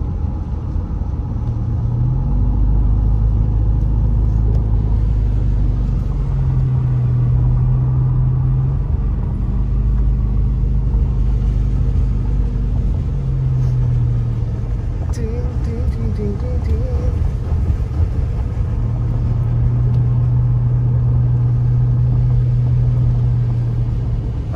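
A car rumbles along snowy roads around Big Bear Lake, California, at about 30 degrees, with steady engine and tyre noise close inside the cabin while someone talks over it.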